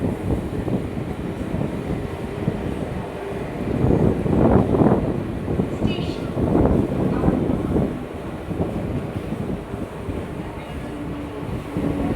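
A Sealdah–Barrackpore local train runs steadily near Agarpara station, a continuous low rumble and rattle with wind buffeting and swelling surges of louder clatter throughout.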